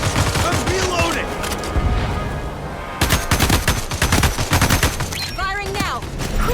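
Gunfire fills a battle in the Starship Troopers video game as loud, rapid bursts of shots, with a dense volley starting about halfway through. Chirping creature sounds and a brief voice come through during the shooting.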